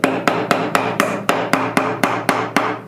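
A chisel is struck repeatedly with a hammer or mallet while cutting wood for a bench, producing about eleven sharp, evenly spaced knocks that are close and loud, with no talking.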